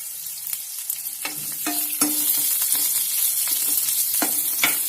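Green chillies and curry leaves frying in hot oil in a pan for radish chutney, a steady loud sizzle with scraping stirring strokes throughout, no voices.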